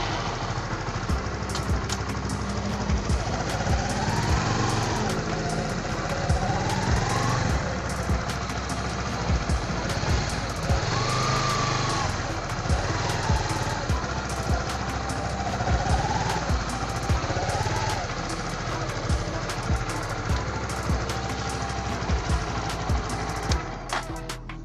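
A 2019 Honda Sonic 150R motorcycle engine runs steadily and close up as the bike is ridden, holding a continuous mid-pitched drone with gentle revving swells and no talk.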